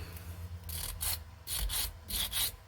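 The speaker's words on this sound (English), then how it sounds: "all it takes is a little bit of sanding, smoothing the lines here" Sanding on a model starship part, several short rasping strokes in quick pairs, close and fairly soft, with brief pauses between the bursts.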